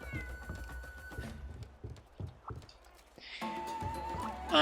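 A house cat meows several times in short, separate calls against a quiet room, with a brighter burst of music or game sound rising near the end.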